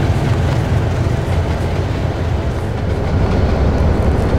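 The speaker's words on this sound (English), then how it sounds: "a grain train passed by with two UPSD-7DMs and a Canadian Pacific Jivo in the lead." A grain train led by a Canadian Pacific locomotive with two SD-7-type diesel units rolls past close by, a loud, steady rumble of engines and wheels holding for the whole stretch with no talk.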